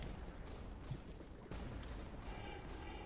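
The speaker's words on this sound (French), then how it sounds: "On continue d'admirer les canons." Cannons fire in the tower-defense video game Tower Dominion, a dense rumbling fusillade of booming shots that runs continuously, with a sharper burst midway.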